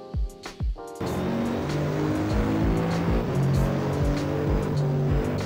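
A racing car engine in the Assetto Corsa game benchmark, starting with short revving bursts and then holding a steady engine roar with rising and falling pitch as it drives, with occasional tire noise.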